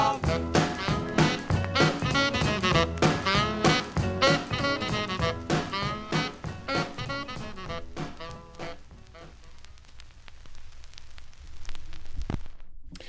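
1956 doo-wop single with layered vocal harmonies over a rhythmic backing band, loud and steady before fading toward a quieter, noisier tail near the end.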